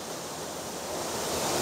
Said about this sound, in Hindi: आप देख सकते हैं पानी के बहाव कितनी तेज है इस वक्त